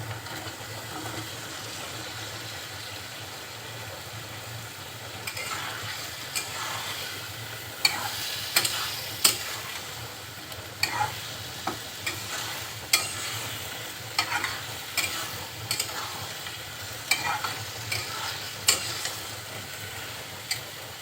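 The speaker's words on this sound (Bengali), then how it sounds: "তখন কেটে রাখা লাউ আর আলু দিয়ে দিচ্ছি" Cut bottle gourd and potato frying in spiced oil, a steady sizzle joined midway by repeated stirring scrapes and clicks of a spoon against the pan, close and fairly loud.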